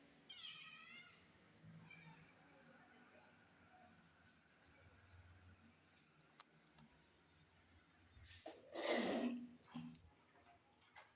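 A caged cat, a mother cat recovering from spay surgery, meows a few times, with one loud close meow near the end over a quiet room background.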